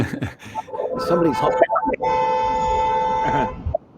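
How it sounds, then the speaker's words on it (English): A car horn honks in the background during an online leadership summit call, a long sustained tone held for a couple of seconds after nearby voices talk over the start. "somebody's honking in the background"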